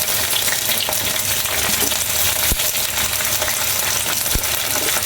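Eggplant and broad beans fry in a pan of hot oil for a vegetarian spinach dish. A loud, continuous sizzle runs close throughout, with two sharp clicks of a utensil against the pan and no voices.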